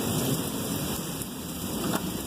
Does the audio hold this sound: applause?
no